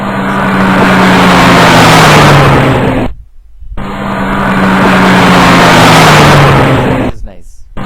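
A loud car engine sound effect for an animated car plays twice. Each pass is a long roaring rev that rises and falls, separated by a short silence and followed by another cut-off start.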